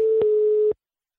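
A single steady telephone line tone sounds while a call is placed, a clear mid-pitched beep lasting under a second with soft clicks at its start and end, then silence.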